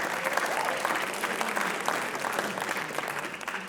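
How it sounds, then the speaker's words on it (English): A school writers expo audience breaks into steady applause, a dense wash of clapping hands from a room full of people, held at an even level for a few seconds. "Give him a round of applause."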